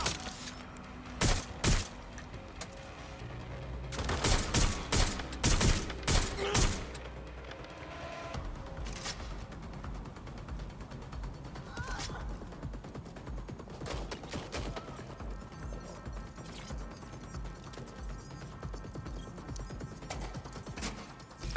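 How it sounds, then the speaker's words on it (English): Video game shootout gunfire comes as bursts of loud, rapid shots and crashing impacts in the first seven seconds, followed by a quieter stretch of scattered thuds and fainter shots under game ambience. "Suspect has opened fire!"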